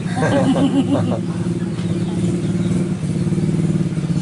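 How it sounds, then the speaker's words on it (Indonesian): A motorcycle engine putters and drones nearby with a steady low rumble, a voice briefly heard over it before the engine noise continues alone. "motor oge berisik"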